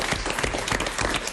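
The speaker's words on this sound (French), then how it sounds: "On peut les applaudir." A studio audience on a French live broadcast applauds in a brief, close, dense burst of clapping lasting just over a second.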